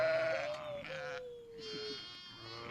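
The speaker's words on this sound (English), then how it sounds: "These are the sheep in the field. They weren't there, and then they were. As you can tell, they're very vocal." Sheep bleat in an open field, several wavering calls overlapping across the clip, fairly close and clear with no talking.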